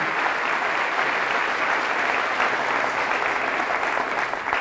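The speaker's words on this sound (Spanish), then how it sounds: "Fuerte el aplauso, la palabra de nuestro Señor y Salvador Jesucristo" A church congregation claps loudly during a Spanish-language Mass, a sustained, even roar of many hands that fills the whole stretch without any voice over it.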